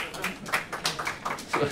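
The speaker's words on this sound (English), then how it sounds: "A smattering of applause" A sparse smattering of audience claps at a KansasFest Apple II conference keynote, a handful of separate hand claps tapping out irregularly, fairly faint in a hall.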